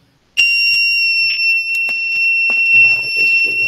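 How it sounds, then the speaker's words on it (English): A buzzer wired to an Arduino board gives one continuous high-pitched electronic beep that starts suddenly and holds steady at close range, with faint clicks and light handling noises underneath. "Now it is giving a continuous beep."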